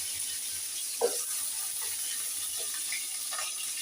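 Diced potato dropped into hot oil with cumin seeds, a steady close hiss of frying with a few soft spatters and pops, no speech.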